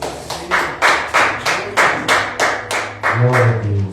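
A congregation in a Pentecostal church claps in a steady, even beat of about eight sharp claps, roughly two per second. A low voice or musical tone rises beneath the final claps.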